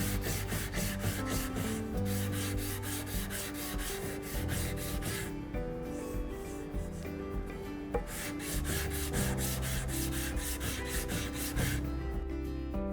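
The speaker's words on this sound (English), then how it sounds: "I'm going to the trouble of sanding this a little smoother" Steady back-and-forth rasping of sandpaper rubbed by hand over a wooden cutting board piece, close and continuous, with brief pauses between runs of strokes.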